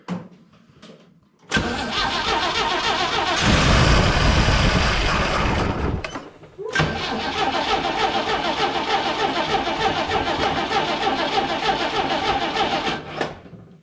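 A Jeep that has sat unused for a year, likely with stale ethanol fuel, cranks loudly and catches, then cuts out and is cranked again into a rough, steady run, all close up with no talking.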